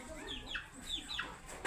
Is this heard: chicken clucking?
yes